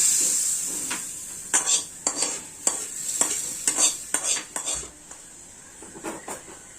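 Curry leaf tempering poured into white coconut chutney for a hotel-style tiffin combo, giving a steady bright sizzle close up with repeated spoon stirring and metal clinks against the pan.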